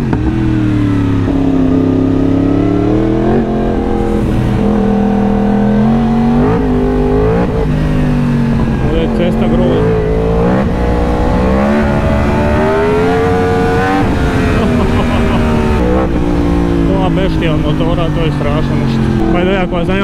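Loud motorcycle engine revving and pulling through rising and falling gears while riding on a road in Thailand, continuous and close throughout, with someone talking over it in places.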